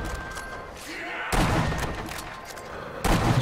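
Gunfire in the Sniper Elite: Nazi Zombie Army game, aimed at a fence, with a loud burst of shots partway through and another at the end over a busy, noisy game backdrop.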